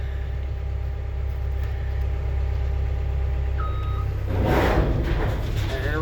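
A vehicle backing up beside a truck while a culvert pipe is moved emits a steady run of loud, evenly spaced reversing beeps over a constant engine drone, with a brief surge of louder rumble near the end.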